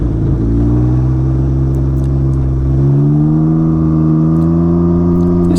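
A Can-Am Ryker three-wheeled motorcycle engine held at full throttle, a loud steady droning roar whose pitch slowly climbs and shifts as it pulls, close and continuous with no talking.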